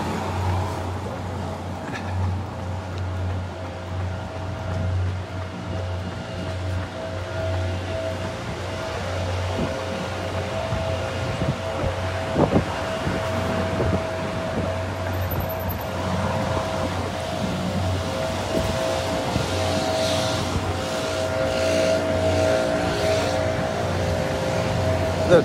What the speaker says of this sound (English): The dreaded leaf blower.